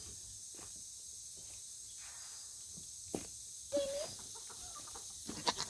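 Chickens cluck faintly in a quiet outdoor setting, with a few scattered, brief calls rising over soft background noise.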